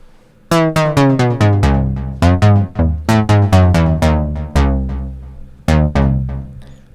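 A dry candy bar bass synth patch, without the Arturia Filter MS-20 effect, plays a bouncy sequence of short, plucky notes, one after another with brief gaps, clean and upfront.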